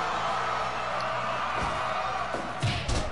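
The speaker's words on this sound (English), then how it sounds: "You can hear the woos in the crowd." At a wrestling match, a crowd lets out sustained woos as a wrestler applies a figure four leglock. The noise is a dense, steady roar of many voices with a few louder shouts near the end.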